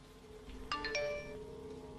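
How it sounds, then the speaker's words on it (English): A distant iPhone iMessage notification chime rings from an upstairs room during a storm: a short, bright, bell-like tone that fades quickly over a low, steady background rumble. "It was the chime of an iMessage notification, and it came from the second floor."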